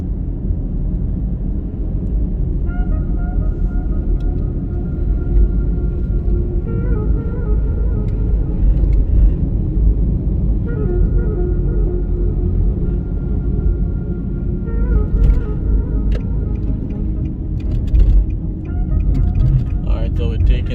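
A car driving along residential streets gives a steady, loud, low road and engine rumble that continues without a break, with faint passing sounds on top.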